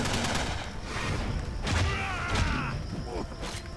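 Bursts of rapid gunfire in the video game Shank 2 crackle through a busy, dense mix, with clanking mechanical sounds and thuds layered under faint background chatter.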